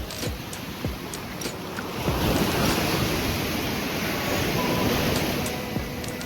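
Sea waves surge and break on a shore near a camp, a steady broad wash that swells louder after the first two seconds, with wind buffeting the microphone throughout.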